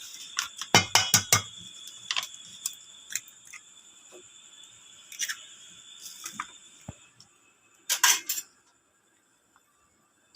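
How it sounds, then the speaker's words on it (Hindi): An egg is cracked against a bowl in a home kitchen: a quick cluster of sharp, close taps and cracks, a few scattered clicks, then another brief crackling burst before near silence, with no talk. "अंडा तोड़ती हूँ सबसे पहले मैं।"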